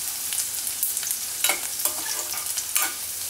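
Garlic frying in oil over a low gas flame for a Maharashtrian green chilli and garlic chutney, a soft steady sizzle with a few brief louder crackles and spoon stirs, close by and with no talk.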